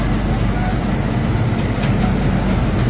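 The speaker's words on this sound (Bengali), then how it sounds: "ছেড়ে দিল ট্রেন আমাদের ধানবাদ থেকে" A crowded passenger train pulls out of Dhanbad, giving a dense, steady rumble and rattle heard from inside the compartment, with faint voices in the background.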